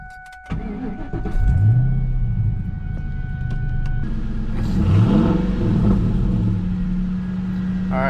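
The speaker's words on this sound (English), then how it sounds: "Almost like a humming or like a low thrum coming from the engine bay when it's running." A 2001 Ford Mustang Bullitt V8 with a faulty idle air control motor starts up, then settles into a low, droning thrum with two rising and falling swells of revs, heard up close with no talk.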